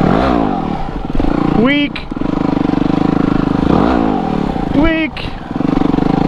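Off-road motorcycle engine revving hard on a trail ride in Japan, with steady loud engine drone and two sharp rising revs as a wheelie is attempted; a rider speaks briefly over it.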